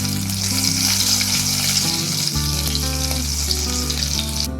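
Cumin seeds and finely chopped green chilli hit hot coconut oil in a pan, producing a loud, continuous crackling sizzle throughout, with no voices.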